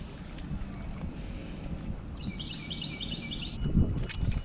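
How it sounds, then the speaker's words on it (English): Strong wind blowing steadily over a lake, a broad rushing roar with gusts swelling near the end, birds chirping faintly in the middle. "So we've got the wind blowing hard again today."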